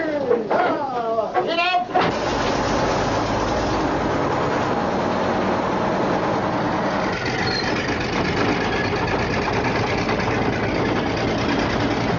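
A military tank engine cranks and catches within the first two seconds, then settles into a steady, loud, low rumbling idle that continues throughout, with a voice speaking over the start.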